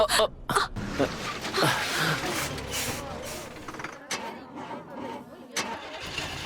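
A bus engine that fails to start cranks and coughs in rough, sputtering bursts, close and fairly loud, with voices and groans mixed in as it breaks down.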